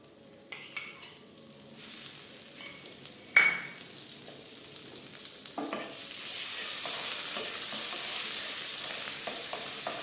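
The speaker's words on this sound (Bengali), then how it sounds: "আমি এই যে বাটারটা এই তাওয়াটার মধ্যে দিয়ে দিচ্ছি" Butter melts on a hot tawa over a gas flame for a cheese sandwich, starting as a faint crackle with scattered clinks and scrapes, then swelling into a steady, louder sizzle in the second half.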